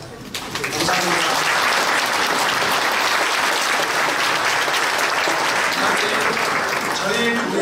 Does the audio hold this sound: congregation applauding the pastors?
yes